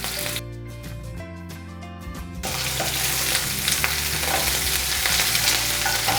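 Curry leaves hit hot oil with slit green chilies for an ivy gourd stir fry, bursting into a loud, crackling sizzle after a quieter stretch of faint frying, then spattering steadily up close.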